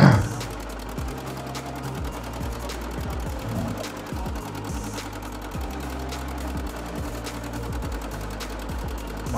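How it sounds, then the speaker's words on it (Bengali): A single-engine boat motor drones steadily and close as the boat travels fast along the Matla river in the Sundarbans, its low, even throb continuing without a break for the whole stretch. "সিঙ্গেল ইঞ্জিনের নৌকো ছিল।"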